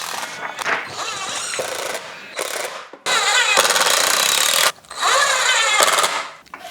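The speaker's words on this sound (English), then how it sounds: "clamp the front fence to the platform and then screw it all in together" A power drill drives screws into a wooden jig, fastening the front fence to the platform in loud, close bursts separated by short pauses.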